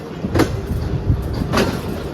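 The Allama Iqbal Express 10DN passenger train, heard from on board at Badomali station, gives a loud, steady rumble with periodic clanks and a rhythmic clatter of the carriages, with a high hiss running through it.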